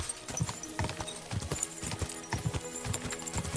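A horse gallops in the video game Kingdom Come Deliverance 2, its hoofbeats a steady, rhythmic clip-clop that stays close and fairly loud throughout, with faint background ambience.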